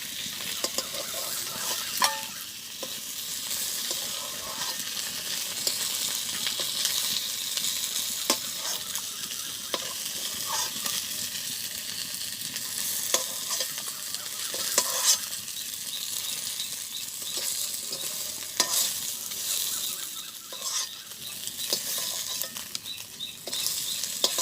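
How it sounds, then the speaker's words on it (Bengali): Fish frying in hot oil in a pan at a village home kitchen, a steady loud sizzle with scraping stirring taps throughout, no talking. "আমার মাছ ভাজি হয়ে গেছে, আমি এখন নামাই নেব মাছ ভাজিটা।"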